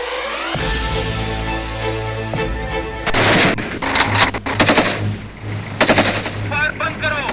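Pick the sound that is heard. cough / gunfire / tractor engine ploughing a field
gunfire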